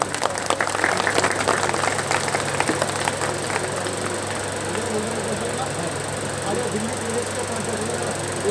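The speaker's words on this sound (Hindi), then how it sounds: "एक बार जोरदार तालियां बजती रहें।" Dense applause from a crowd, strongest at the start and settling into a steady clapping wash, with a low engine-like hum underneath.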